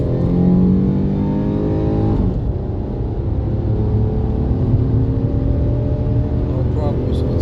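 A car with a recent misfire repair, new ignition coils and spark plugs, accelerates hard from 0 to 60 on a test drive. The engine note climbs steadily through the gears with a brief shift dip, heard from inside the cabin while someone talks.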